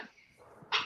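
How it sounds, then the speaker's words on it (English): A pet dog gives one short, high whimper at the end of a quiet moment during a woodworking livestream, close but faint and very brief. "That's my dog."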